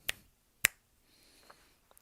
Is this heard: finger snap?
yes